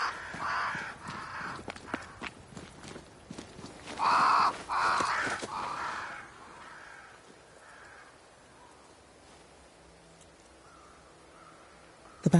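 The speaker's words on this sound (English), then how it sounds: "Crows. They flock to that great tree up there." Crows caw in the game Banishers, a flock around a great tree: repeated harsh calls over the first six seconds, a few loud and close, then quieter, fading to near silence before a sudden sound at the very end.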